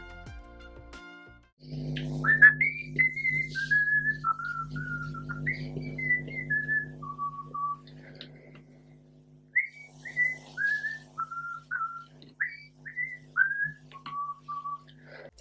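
A person whistles a clear melodic tune alone, phrase after phrase with short pauses, over a faint low hum early on.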